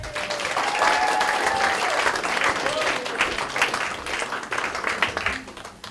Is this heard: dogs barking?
no